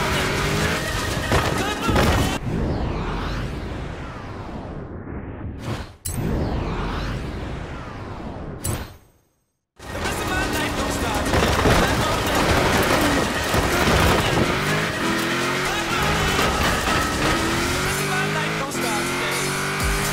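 Racing action from the video game Forza Horizon 4, with a loud, continuous car engine roaring and whooshing past for most of the stretch, broken by a couple of brief dropouts and a near-silent gap, under backing music.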